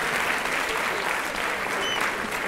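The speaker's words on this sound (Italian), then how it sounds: "Vi chiedo ancora un grande applauso a questi ragazzi" Audience applause for students at a school Christmas concert, a steady dense clapping from a crowd that holds at an even level throughout.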